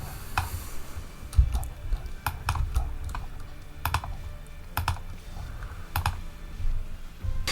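Keys clatter on a computer keyboard as a prompt is typed, with irregular quick bursts of close, crisp keystrokes separated by short pauses.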